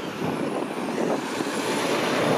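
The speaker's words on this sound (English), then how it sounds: "Well, look at that, there's two Nova buses." Two Nova buses pass on Jane Street in Vaughan, Ontario, a loud, steady roar of engine and tyre noise from close by with no voices over it.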